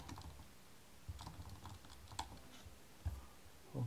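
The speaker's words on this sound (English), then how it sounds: "let's just type mark sheet name." Typing on a computer keyboard, scattered keystrokes at an uneven pace with a few louder clacks, close and fairly quiet, no talking.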